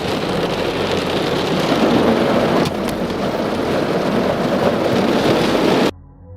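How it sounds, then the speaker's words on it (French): A thunderstorm brings steady, heavy rain hissing on surfaces, with a brief thunder crack partway through, before the sound cuts off abruptly near the end. "J'attendrai que l'orage se calme un peu"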